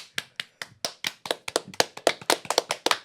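A few people on a podcast set clap their hands, a loose scatter of sharp, close claps that start spaced apart and then bunch into a quicker, overlapping patter.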